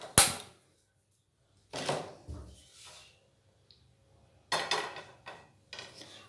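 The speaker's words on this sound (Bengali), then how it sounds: "এর জন্য আমি উনুনে কড়াই বসিয়ে নেব" A metal kadai set onto a stove burner, heard as a sharp clank followed by a few scattered metallic knocks and clatters, close and fairly quiet, with silences between them.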